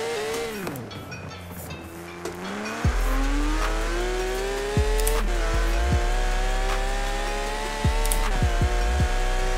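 Porsche 911 GT3 RS engine in Forza Horizon 4 howls loudly as it revs, the pitch climbing and dropping sharply with each paddle-shifted gear change, racing up through the gears with continuous high-revving strain and no talking.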